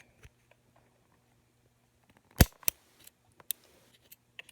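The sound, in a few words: cutting an iPhone lightning cable to length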